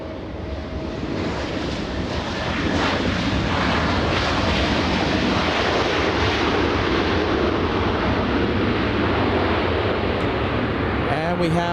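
An American Airlines jet inbound from Dallas, Texas, arriving at LAX, its engines a loud, steady broadband roar that swells slightly and then holds throughout.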